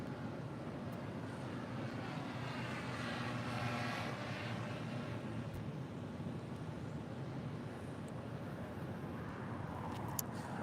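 A Delta Boeing 757-200 airliner at LAX gives a steady, distant jet roar that holds through the whole stretch, with a broad rushing tone and a faint rising whine in the middle.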